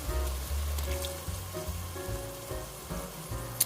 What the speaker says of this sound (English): Now we're going to add the fire roasted diced tomatoes.